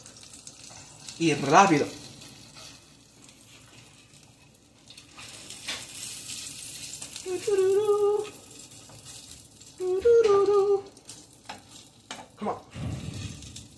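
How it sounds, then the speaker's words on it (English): Salchicha sausages sizzle and crackle in a hot pan, a soft continuous frying hiss close by, broken by louder bursts of talking from a man. "Oh, you hear that sizzling?"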